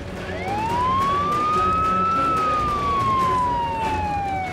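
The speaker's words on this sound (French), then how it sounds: "Maman, les pompiers sont là." A fire engine siren wails as the truck arrives, one long tone climbing and then slowly falling. It is loud, steady and close, with no talk over it.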